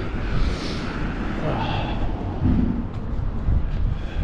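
Steady rumbling wind gusts buffet the microphone outdoors on a street in Lachine, Montreal, a broad roaring noise that swells and eases over several seconds.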